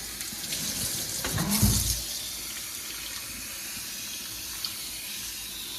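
A running kitchen tap splashes into the sink during washing and rinsing, a brief louder gush of water early on before the flow settles into a quieter steady trickle.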